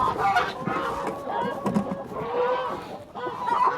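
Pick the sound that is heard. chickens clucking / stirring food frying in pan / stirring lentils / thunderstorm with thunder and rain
chickens clucking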